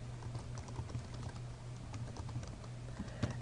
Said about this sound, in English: type anything.